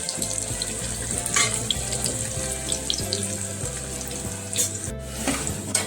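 Onion fries in hot oil for egg biryani, giving a steady sizzle under running tap water and kitchen clatter close by.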